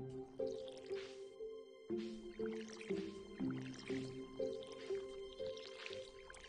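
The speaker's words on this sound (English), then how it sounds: "I had to water all these deals here" Watering crops in the Stardew Valley video game gives a string of soft, bubbly splashing and dripping sounds, repeated roughly every second at a low, steady level.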